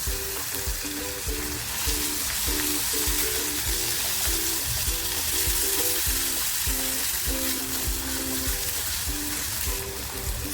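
Chopped tomato tossed into onions frying in a pan for karandi masala gives a loud, steady, close sizzle, with stirring scrapes and a soft repeating musical tone underneath.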